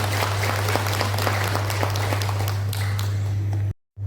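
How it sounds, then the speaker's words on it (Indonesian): A room full of people claps steadily and densely over a constant low electrical hum, then the sound cuts out abruptly. "Tepuk tangan untuk panitia"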